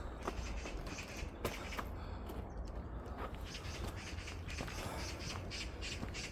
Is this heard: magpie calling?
yes